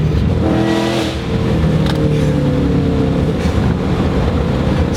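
Loud, steady engine roar from a 2008 Shelby GT500 running on Nitto drag radials, a dense rumbling drone that holds throughout with a brief dip near the start and no talking.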